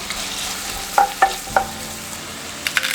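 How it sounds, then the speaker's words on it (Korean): Paprika and onion go into a pan with garlic and bacon. Soft frying hiss sits under a few sharp metallic clinks and scrapes of a utensil stirring against the pan, with quieter stirring between them. "마늘 색이 변하면 베이컨 베이컨 색이 변하면 소스 자 파프리카 양파 넣어주시고요"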